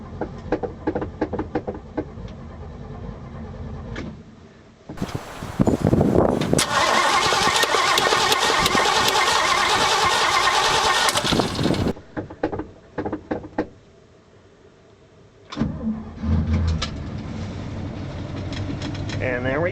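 A 1968 GMC 3500 truck engine cold-starts with its accelerator pump gone, cranking briefly before catching into a loud, rough run that settles toward an idle, with a short quiet gap and some talk around it.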